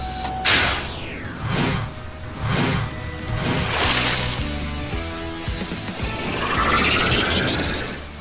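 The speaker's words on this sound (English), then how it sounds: "time to put out this fire. Arf, water cannon." A cartoon water cannon on a toy rescue vehicle sprays water onto a fire: a steady hissing, sloshing rush, mixed with background music and whooshing effects.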